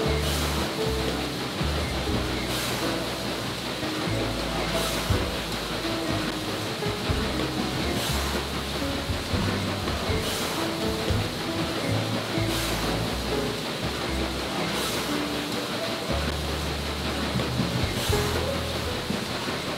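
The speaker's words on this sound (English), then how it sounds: "We grabbed the opportunity to take a 1-hour trip on the paddle steamer Industry." The paddle steamer Industry cruising on the Murray River: a steady broadband churn of paddlewheel water and engine with evenly spaced rhythmic surges roughly every two and a half seconds, continuous and fairly close, with no talking.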